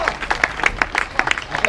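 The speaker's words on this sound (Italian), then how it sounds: "un bel applauso a entrambi" Applause for two boxers at the end of an amateur boxing match, dense clapping with sharp irregular claps from a crowd, mixed with cheering voices.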